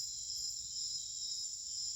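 Crickets chirp at night in a constant high-pitched drone, steady and unbroken, with nothing else around them.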